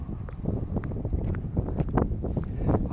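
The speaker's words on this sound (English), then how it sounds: "Almost always the wind blowing up there." Wind gusts buffet the microphone on Citadel Hill in a continuous low rumble that swells and fades unevenly.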